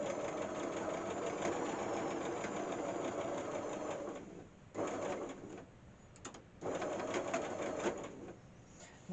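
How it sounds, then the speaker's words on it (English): A sewing machine stitches a fabric bread bag in a loud, steady whirring run that stops briefly, gives a couple of short bursts, then resumes running close up. "I'm going to sew the other one straight on"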